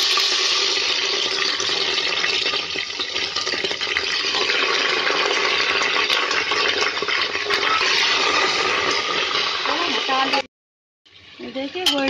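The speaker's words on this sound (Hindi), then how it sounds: "तेल हमारा गरम हो गया, अब हम इसमें गोश्त डालेंगे" Mutton dropped into three spoons of hot oil, setting off a loud, steady, broadband sizzle that runs continuously before cutting off abruptly, then resuming briefly with some clatter.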